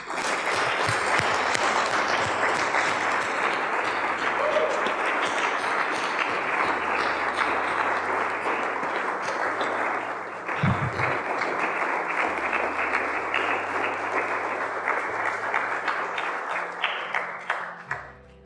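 Applause greets a new Eagle Scout at his Court of Honor, a sustained roar of many hands clapping from a seated audience, loud and steady for over fifteen seconds before thinning into scattered claps at the end.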